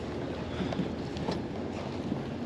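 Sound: wind blowing on a boat outdoors

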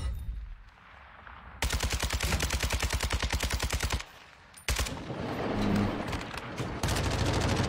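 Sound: gunfire into a dummy, from a video game

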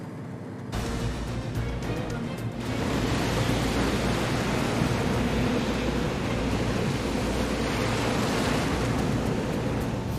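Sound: ocean waves

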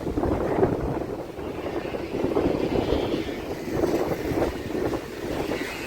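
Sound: sea waves crashing on the shore

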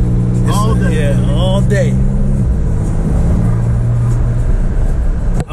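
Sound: 2021 Porsche 911 engine revving

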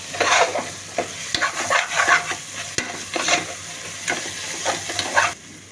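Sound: green chillies frying and being stirred in biryani pot

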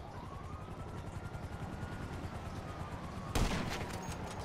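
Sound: gunfire in the video game GTA 5

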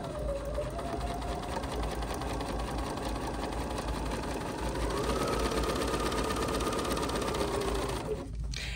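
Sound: Bernina sewing machine stitching a straight stitch

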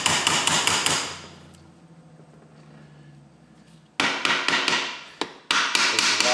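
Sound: tapping a Model T Ford transmission plate

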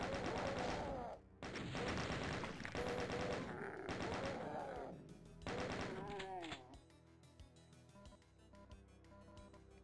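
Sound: gunfire in video game Doom II

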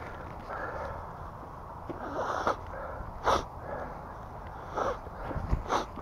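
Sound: person sniffling

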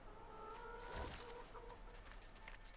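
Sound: chicken clucking in Divinity: Original Sin 2 video game

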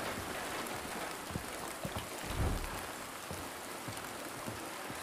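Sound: rain

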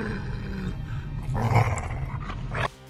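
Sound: angry dog growling

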